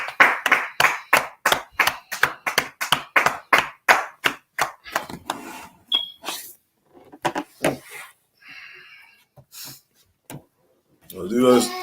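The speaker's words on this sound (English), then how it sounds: "All right, let's clap it up." A class audience claps in a steady rhythmic series of sharp, loud claps for several seconds, then scattered fainter sounds and some voices talking follow.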